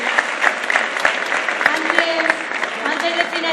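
An audience at an open political assembly in Elche applauds steadily throughout, a continuous wash of clapping with brief tonal voice traces mixed in.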